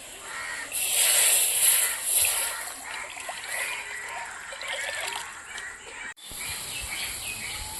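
Water pours steadily into a jar while making drumstick soup, a bright splashing hiss that continues for several seconds with a short break near the end.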